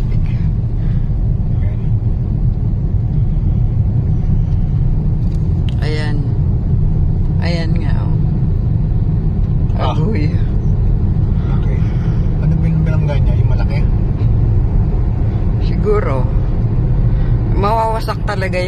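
Heavy road traffic is heard from inside a vehicle on the way home from work: a loud, steady low engine and road rumble, with people talking over it now and then.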